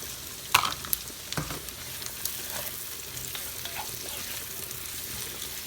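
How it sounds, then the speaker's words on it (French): Carrots sizzle and fry in a cast-iron pot while making spaghetti Bolognese sauce, with a steady crackling hiss and a few clattering stirs near the start. "On met les carottes."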